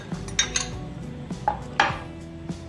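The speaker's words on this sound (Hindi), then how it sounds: "मैंने एक बॉल लिया है और उसमें मैं आड़ू डालूंगी सबसे पहले।" Peach pieces dropped into a bowl for fruit chaat, a run of scattered clinks and light knocks against the dish, close and with no talking.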